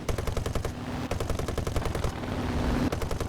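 Rapid machine gun bursts from a Sea Gladiator Mk I biplane fighter in War Thunder during a dogfight, loud sustained rattling that pauses briefly at about one second and again near two, over a steady engine drone.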